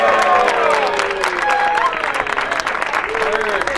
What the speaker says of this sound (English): So a cheer for Shannon, cheer for Kathy, cheer for the group of a new Vallejo